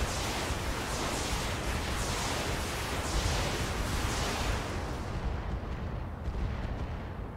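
Missile barrage striking and destroying buildings in the mech game Battletech, a dense, continuous roar of overlapping explosions that stays loud throughout and tapers slightly near the end, with no voices.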